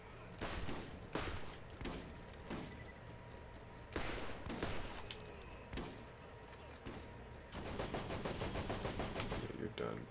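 Rapid, loud gunfire bursts from a 286-damage sniper rifle in the video game Borderlands, repeated sharp cracks in clusters, with a player talking over the action.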